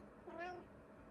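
A cat gives a single short, clear meow close by, rising and then falling, in a quiet indoor room.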